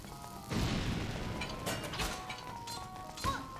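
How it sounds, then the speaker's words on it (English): A bomb blows open a wall in Link's Awakening: a sudden loud burst of crashing noise that holds steady, followed by lighter clattering game effects and a second sharp hit near the end. "And then we bomb the other wall."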